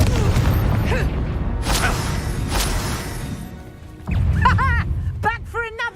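Confringo fire spell blasts in Hogwarts Legacy combat: several sharp booming bursts and crashes, loud and close, with creature cries and a voice calling out over them.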